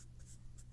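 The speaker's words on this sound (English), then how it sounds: "We're going to write down a list of ions." Writing down a list of ions, likely pen or marker on paper or a board: soft, steady scratching strokes under a low hum, close but faint, lasting less than a second.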